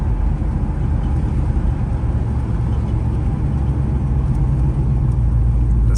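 A truck's engine drones steadily in a low, continuous rumble while driving, close and loud throughout with no voices.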